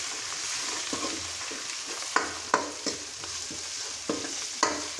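A spoon stirs turmeric and paste into tomato egg curry in a pan, soft steady sizzling broken by several sharp scraping clicks against the pan, close and fairly quiet.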